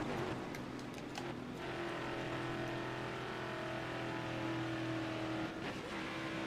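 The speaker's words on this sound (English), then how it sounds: "Why did my car sound like that?" A race car engine in the NASCAR Heat '24 video game drones steadily throughout, a loud, continuous hum with a sustained low pitch and a slight waver near the end, with no talking.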